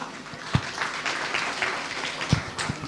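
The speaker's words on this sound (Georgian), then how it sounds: "დავემშვიდობოთ ტაშით ასე" Audience applause at a concert tribute in Batumi, moderately loud and continuous, a few sharper individual claps standing out above the crowd.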